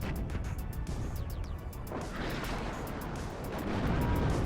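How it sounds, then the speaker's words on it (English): 150mm artillery in the strategy game WARNO fires amid a dense battle din of crackling blasts and rumbling impacts, continuous and fairly distant, with rapid small-arms bursts layered throughout and no talking. "That 150mm artillery isn't doing a terrible job."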